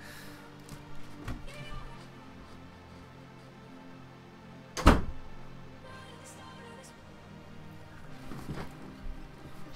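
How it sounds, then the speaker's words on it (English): A door slammed shut indoors with a single loud, sharp thud midway, set against quiet room noise and faint background music. "Accidentally slammed the door, is what I mean."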